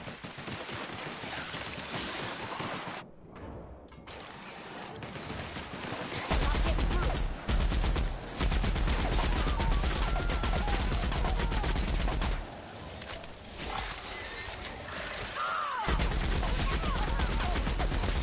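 Loud, sustained video-game gunfire aimed at a Manta Queen in The Outer Worlds, with rapid bursts that fill most of the stretch, pausing briefly in a few places before resuming, along with some in-game noise.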